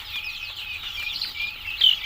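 Broiler chickens in a poultry shed make a steady chorus of high chirps and clucks, moderately close, with one sharper call near the end.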